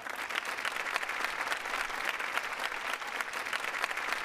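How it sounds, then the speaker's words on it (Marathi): Audience applause at a Marathi comedy stage show, a steady dense burst of clapping from a crowd lasting about four seconds with no talk over it. "जोरदार टाळ्या."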